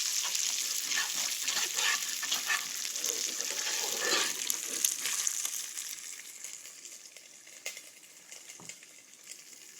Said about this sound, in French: Donc là on va essayer de faire un caramel.